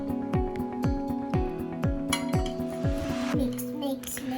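Pumpkin oatmeal raisin cookie dough stirred in a bowl, a steady run of clinks and scrapes of utensil against the bowl, with a repeating rhythmic tonal sound running alongside.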